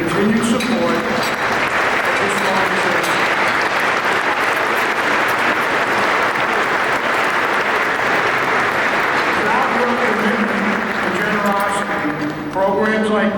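A luncheon crowd claps for itself in a long, loud, even burst of applause filling the room, with voices audible at the start and a speaker resuming as it dies down.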